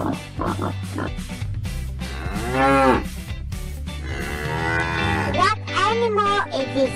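A dairy cow on a farm gives several long, loud, drawn-out moos close by, over a light musical backing, with a voice asking a brief question.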